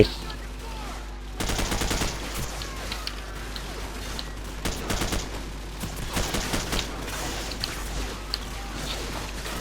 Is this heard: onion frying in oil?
no